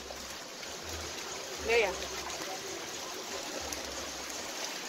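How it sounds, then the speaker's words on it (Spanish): Floodwater from the overflowing river in Naranjo Dulce rushes steadily through a flooded area, a continuous broadband wash with a brief louder surge, while someone speaks over it. "Todo esto es el río."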